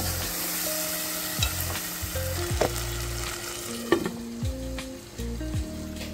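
Eggs and dried shrimp fry in a pan with a constant close sizzle, broken by repeated scraping and knocking strokes as the mixture is stirred.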